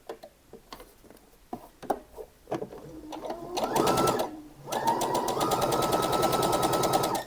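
A domestic sewing machine stitches fabric at a 1 cm seam, first with slow, uneven ticking clicks, then a steady close whirring run, a brief pause, and another sustained fast run.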